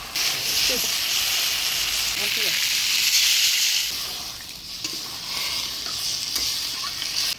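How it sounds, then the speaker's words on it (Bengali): Goat meat is stirred in a hot pan with a loud, continuous sizzle and scraping, and the hiss dips and shifts partway through as water goes in. "মাংসটা ভালোভাবে নাড়াচাড়া করে নিলাম, এবার অল্প জল দিয়ে দিচ্ছি।"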